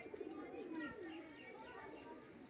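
High-flying pigeons coo softly in a short, close series of throaty calls, fairly quiet against light background noise.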